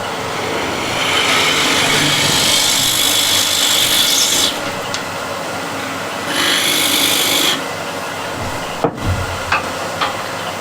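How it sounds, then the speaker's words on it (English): A spindle gouge cuts a depth hole into spinning wood on a lathe, producing a loud continuous rasping scrape in two long bursts, separated and followed by quieter lathe hum and a few knocks. "I'll actually use a spindle gouge."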